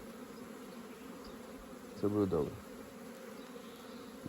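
A steady soft hum of honeybees flying in the background, with a person speaking briefly over it, in spring.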